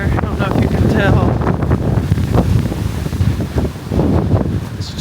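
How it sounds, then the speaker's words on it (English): Hurricane Beryl winds in Galveston County, Texas, roar steadily and gust hard against the microphone, with loud buffeting bursts that rise and fall; a voice is heard briefly over it. "Oh my God, the wind."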